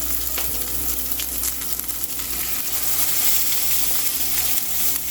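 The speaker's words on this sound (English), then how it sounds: "I'm getting creative with the sear." A tomahawk steak sears in a hot pan, producing a loud, steady sizzle that stays continuous and close throughout, with no voices.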